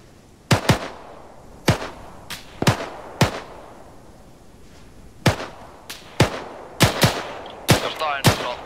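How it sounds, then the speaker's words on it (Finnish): Gunfire rings out in sharp separate cracks and short bursts, around a dozen shots at irregular intervals, moderately loud and somewhat distant, with no talk. "Jostain Southwestista ammutaan."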